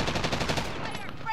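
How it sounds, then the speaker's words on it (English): Rapid automatic gunfire in Call of Duty: Modern Warfare, loud and dense for over a second, with a blur of shots tapering off toward the end. "Who's shooting?"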